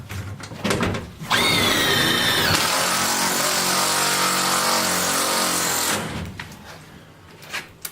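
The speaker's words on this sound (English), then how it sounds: "we use our self-tapping metal to metal screws." A power driver sinking a self-tapping metal-to-metal screw into subflooring, a loud whirring buzz that starts high, drops in pitch as the screw bites, runs steadily for several seconds, then cuts off amid light clatter.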